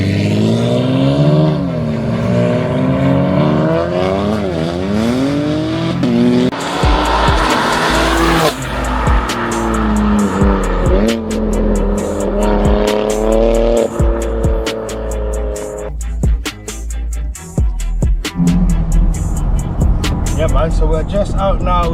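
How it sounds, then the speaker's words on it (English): Tires squeal loudly on an 880bhp BMW M4 G83 running race fuel during a street burnout, with the engine roaring and revving under continuous screeching rubber that swells and holds for over twenty seconds, while voices talk over it. "we're just gonna take this bad boy out for a smoke and burn some rubber"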